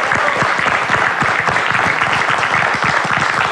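Studio audience in a television program bursting into dense, loud, continuous applause that fills the whole stretch with no voice on top.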